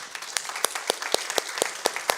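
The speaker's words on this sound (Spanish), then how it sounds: "Un aplauso para Adolfo, por favor." A small church congregation applauds to welcome a first-time visitor, a light, sparse patter of clapping with a few sharper claps standing out, fairly quiet and without talk.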